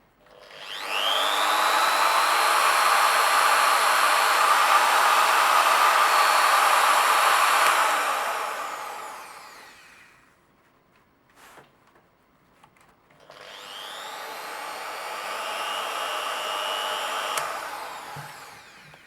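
A Sturmax GMM2365P 650 W die grinder runs at medium speed with a loud, steady high whine for several seconds, spins down into near silence, then starts again and keeps running slightly softer.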